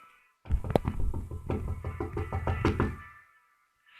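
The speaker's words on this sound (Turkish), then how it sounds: "Kapıyı çalıyorum ben." Knocking on a door in the game Minecraft, a loud close series of rhythmic knocks, about a dozen evenly spaced raps over roughly two and a half seconds, then quiet.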